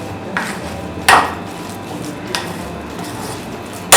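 Falafel batter of chickpeas thickened with chickpea flour being stirred in a bowl, a few soft wet squelches and light scraping knocks of the utensil against the dish, close and otherwise quiet.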